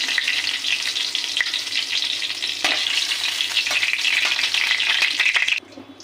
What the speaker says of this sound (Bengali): কড়াইতে তেলটা গরম হয়ে গেছে আমি কালো জিরে আর একটু লঙ্কা উপরে দিয়ে নেব